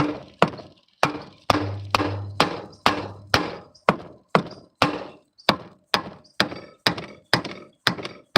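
A rubber hammer knocks on a part of a boosted VR6 engine during a rebuild: about fifteen hard, dull thunks in a steady rhythm, each ending in a short ring, with a low hum under a few early blows.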